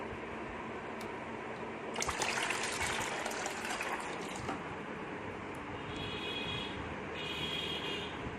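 Water pours into a container for about two and a half seconds, a close rushing splash, followed by quieter trickling and a faint high electronic whine.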